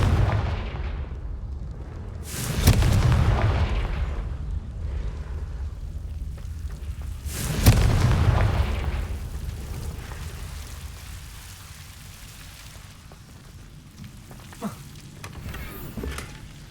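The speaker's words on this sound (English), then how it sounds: "Confringo." Confringo explosive spell in the Hogwarts Legacy video game: two loud booming blasts a few seconds apart, each trailing off into a rumbling decay, with a fainter pop near the end.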